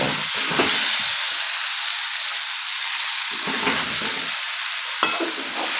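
Kabuli chickpea masala sautéing in a pan, a loud continuous close sizzle with hissing steam and intermittent stirring strokes, with no voices.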